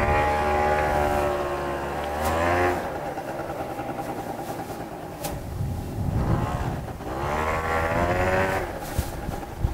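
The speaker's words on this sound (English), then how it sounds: "I'm gonna go take this for a quick test drive" An Adly RT50 two-stroke automatic scooter on a test ride, its engine rising and falling in pitch through two clear acceleration sweeps, loud and close throughout.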